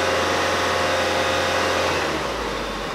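A 2009 Volkswagen Passat 2.0T with a fuel pressure sensor fault and lean condition holds a raised engine note, a steady close roar that eases slightly near the end.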